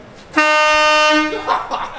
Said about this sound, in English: Isn't that got a train horn on it or something?